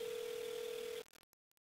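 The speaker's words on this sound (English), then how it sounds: "I'm calling Bale. And I'm gonna get his voicemail" A phone call rings through toward voicemail: a single steady ring tone lasting about a second cuts off abruptly, followed by a few faint clicks and then quiet.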